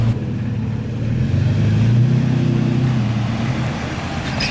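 A Toyota Tacoma pickup truck engine running as it backs out and drives, a loud steady low rumble with a slight rise in pitch midway, close by.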